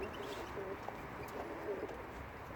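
Pigeons cooing faintly in a loft among birds bought from a pigeon breeder, a few soft, brief coos over a steady low background hum.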